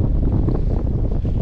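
Steady, heavy wind buffets the microphone with a continuous low roar while fishing at the Oregon Inlet Bridge.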